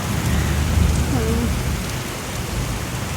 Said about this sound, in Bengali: খুব জোরে বৃষ্টি আইছে।